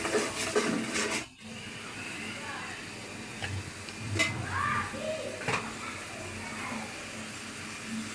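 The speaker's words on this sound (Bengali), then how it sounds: "এখন দিয়ে দিব আদা রসুন বাটা" Ginger-garlic paste drops into a pan of frying spices and chili powder, with metal spoon clatter and scraping against the pan over a faint background sizzle, brief clinks scattered through the stretch.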